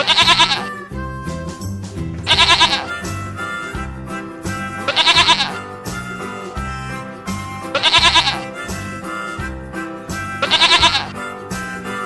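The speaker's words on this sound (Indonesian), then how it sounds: "Ternyata ini kambing." A goat bleats five times in short, evenly spaced calls, loud and close, with a repeating musical backing running underneath.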